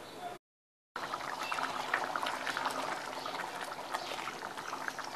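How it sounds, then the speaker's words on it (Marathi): A pot of chickpea curry (chole) simmers with a steady soft bubbling hiss. The sound cuts out briefly near the start, then continues evenly. "हे छोले आता शिजत आलेले आहेत,"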